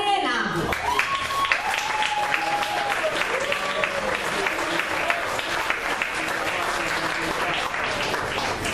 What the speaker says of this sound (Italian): Ragazzi, un bellissimo applauso.